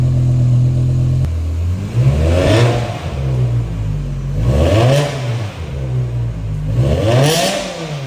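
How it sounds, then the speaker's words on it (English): A BMW M6 V10 car engine, without secondary catalytic converters or muffler, revs up three times in a row, each rise climbing loudly then falling back to idle, close and unmuffled. "Much more of a V10 sound now."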